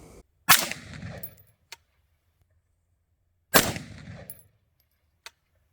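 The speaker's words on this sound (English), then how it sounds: "me shooting the gun" A gun fires two sharp, loud shots about three seconds apart, each with a short echoing tail, followed by a small metallic click each time as the trigger fails to reset.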